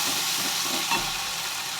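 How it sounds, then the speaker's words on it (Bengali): Prawn paste frying in a pan while being stirred, a dense continuous hiss and sizzle with faint scraping, close and steady, no voices. "এই ঠোঁটের পেস্টটা দিয়ে দেব। দিয়ে একটু নাড়তে থাকবো।"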